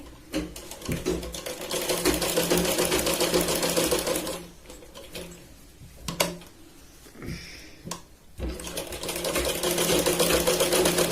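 A sewing machine runs in fast, steady bursts while stitching tucks into a katori blouse, pausing briefly midway with a few clicks and handling noises before resuming loud and close.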